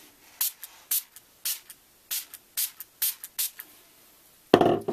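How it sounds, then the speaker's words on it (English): A hand spray bottle misting water onto an embossed paper card gives about seven short, sharp hissing bursts in an uneven rhythm. They sound close and are heard alone, and a louder rustle comes at the end. "I'm going to give it about 7 sprays."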